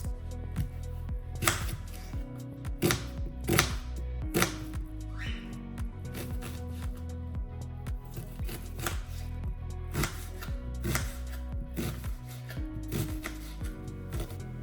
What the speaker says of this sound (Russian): 1 луковица, снимаем с нее шкурку и нарезаем мелкими кубиками